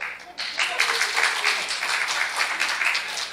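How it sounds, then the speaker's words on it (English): Congregation cheering and applauding during a game-show-style church sermon, a steady broadband wash of clapping and voices that swells in after a brief quiet start and holds for several seconds. "Everybody start cheering."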